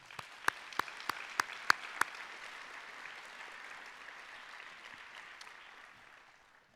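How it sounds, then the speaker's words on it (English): A room full of applause at an award ceremony, steady clapping with a few sharp nearby claps early on, gradually tapering off toward the end. "I want to give a round of applause to all of them"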